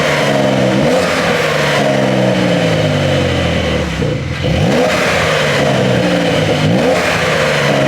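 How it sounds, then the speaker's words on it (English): A classic Porsche 911 exhaust revs loudly up close in several rising and falling blips, the engine climbing and dropping in pitch between short idle dips. "let's get some exhaust sound."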